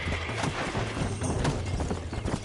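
Horse hooves clip-clop steadily in Red Dead Redemption, a close, continuous trotting rhythm with a busy game soundscape layered over it.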